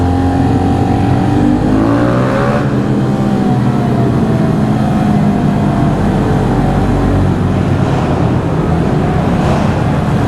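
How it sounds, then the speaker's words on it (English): Steady, loud engine roar with rising revs from small-bore motorcycles at the 2023 Barber Small Bore event, a continuous throaty exhaust drone that swells and falls, close by and without voices. "Good chance to get some loud exhaust noises."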